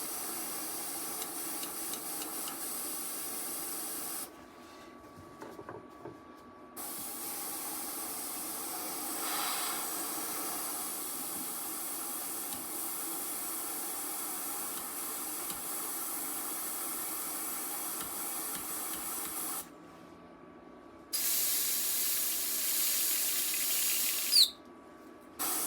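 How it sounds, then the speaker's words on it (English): An airbrush is cleaned out, giving long stretches of steady, fairly quiet hissing spray broken by a few abrupt gaps of near-silence. There is no talk. "I know y'all don't watch these videos to hear me clean the airbrush."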